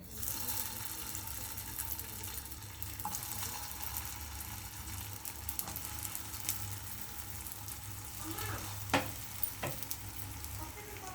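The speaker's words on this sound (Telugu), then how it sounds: "ఇలాగే మిగిలినవి కూడా వేసుకొని ఫ్రై చేసుకోవాలి" Potato cutlets frying in oil, a soft continuous sizzle heard at a modest distance for several seconds, with a few faint clicks and taps of utensils near the end and no talking.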